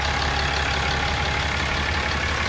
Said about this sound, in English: I don't know if you guys can hear that rattling. This truck has made that since day one.